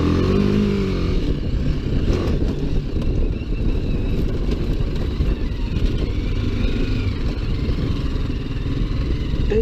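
A BMW G310GS Rallye motorcycle ridden off-road along sandy rutted tracks, its mid-pitched engine droning loud and close with throttle swells, rattling and clatter from the rough ground, and no speech.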